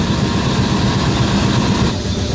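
A boat engine running on starting fluid because its fuel is not reaching it, a steady loud rumbling drone that holds unbroken and close throughout.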